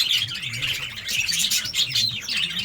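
Caged goldfinches chirp and sing nonstop, a dense, bright twittering of many birds close by with no talk, steady throughout.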